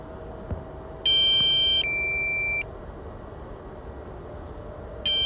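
A drone emits a series of loud, high-pitched electronic beeps: one long sustained tone shifting to a lower pitch, then another starting, over a steady background hum.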